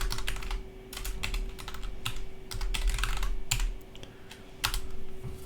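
Rapid, irregular bursts of keystrokes on a computer keyboard, clicking close and clear with short pauses between runs, over a steady low hum and no talk.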